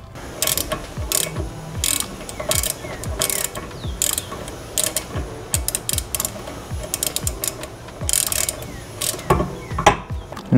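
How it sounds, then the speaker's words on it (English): A ratchet and socket tighten a 12 mm brake banjo bolt on an eighth-generation Honda Civic during a rear drum-to-disc brake conversion. Loud, close pawl clicking comes in repeated rapid strokes with brief pauses, and no voices are heard. "you can finish tightening up with a ratchet and a socket"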